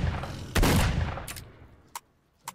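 A sawed-off shotgun firing in S.T.A.L.K.E.R.: Shadow of Chernobyl: one loud, close blast, then a fainter shot and two small sharp pops further off over a fading tail, with no speech.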